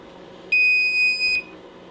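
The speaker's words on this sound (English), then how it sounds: "That beep is going to let you know that it's now cell balance charging." A drone battery charger for a Hubsan X4 Pro H109S gives a single clear electronic beep lasting under a second as balance charging of the three-cell battery begins, heard close up against a quiet room.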